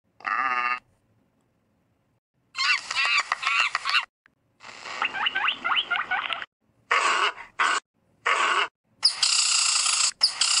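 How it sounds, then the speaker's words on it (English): Bird-call sound effects from the InShot video editor's library play as a series of short, separate chirps and calls with silent gaps between them. "And birds."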